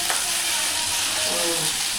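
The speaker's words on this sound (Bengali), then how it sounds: "মুড়ো ভাজা, মাছ দিয়ে ভাজা" Fish head frying in a pan, a loud continuous sizzle and crackle of hot oil filling the moment, close and steady without pause.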